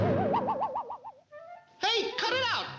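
A cartoon pigeon coos in a 1942 animated short, a wavering warble followed by a brief pause and then louder, sliding cartoon vocal sounds, close and clear.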